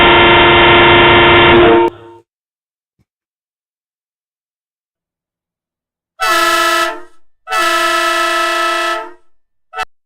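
Loud horn blasts played from a novelty horn website: one long blaring tone at the start, then after silence two more sustained blasts and a brief final burst, harsh and close with rich harmonics.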